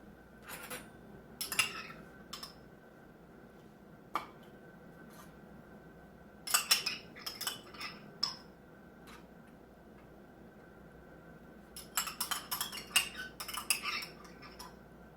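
A spoon clinks against a dish while minced garlic is spread onto pork tenderloin, with scattered clusters of light metallic taps in an otherwise quiet room and no talk.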